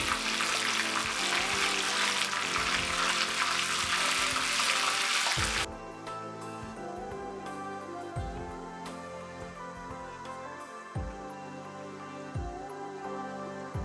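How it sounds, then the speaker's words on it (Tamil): Ghee tempering with mustard seeds, cumin, two dried chillies and curry leaves for bottle gourd kootu: loud, dense spluttering sizzle for several seconds, then a quieter frying crackle with scattered pops and clinks. "தாளிப்புக்கு 2 ஸ்பூன் நெய், அது கூடவே கடுகு, சீரகம், ஒரு 2 காஞ்ச மிளகாய், கருவேப்பிலை இதெல்லாம் சேர்த்து நல்லா பொரிஞ்ச பிறகு"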